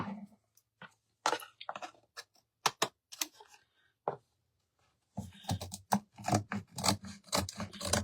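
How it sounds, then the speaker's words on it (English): Scissors trimming homespun fabric and lace, heard as a series of short, crisp snips and rustles, quiet and close, coming in irregular bursts with brief pauses and no talking. "Let's go ahead and trim these real quick."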